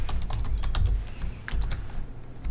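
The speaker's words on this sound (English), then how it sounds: "I'm going to type in Control" Someone types rapidly on a computer keyboard while programming a PLC, producing a quick run of close, crisp key clicks with short irregular gaps and no voices.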